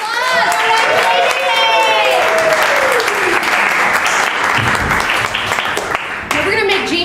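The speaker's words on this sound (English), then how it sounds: "give her a round of applause" A studio audience gives a loud round of applause with cheers and whoops, sustained close clapping for several seconds while voices shout over it.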